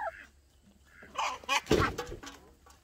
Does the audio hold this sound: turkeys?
yes